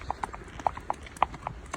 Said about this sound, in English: Look at Kahula hacking along there, Laura one-handed